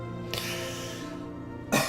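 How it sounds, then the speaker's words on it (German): A voice coughs or clears its throat in a short burst near the end, close and fairly loud, during a German-language Baldur's Gate 2 playthrough with steady game ambience before it. "Hust, hust."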